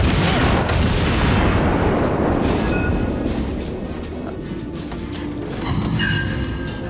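A loud torpedo explosion in World of Warships, a heavy boom at the start decaying into a long rumbling wash, with a smaller burst near the end.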